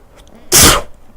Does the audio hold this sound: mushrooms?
no